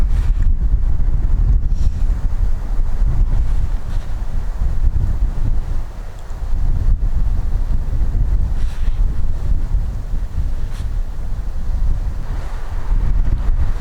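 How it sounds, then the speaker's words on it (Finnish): A strong, cold wind buffets the microphone on an open Finnish bog hike, roaring in loud, uneven low gusts that dip briefly and surge back, with no voices. "On tää tuuli vaan kyllä."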